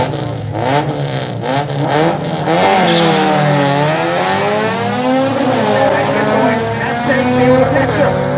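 Drag racing cars launch and accelerate hard at Killarney in Cape Town, engines roaring loudly and climbing in pitch through the gears, continuous and close.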